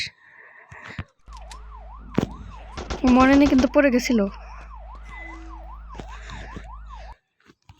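A police car siren in a gangster crime video game wails in steady rising and falling sweeps for several seconds, with a voice talking briefly over it midway.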